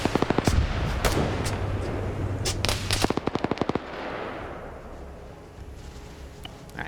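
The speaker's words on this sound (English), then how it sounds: "this group's still taking fire from marauding vehicles" Bursts of rapid machine gun fire from marauding vehicles in a military video game, sharp loud volleys in the first few seconds that trail off into a rumbling quieter ambience.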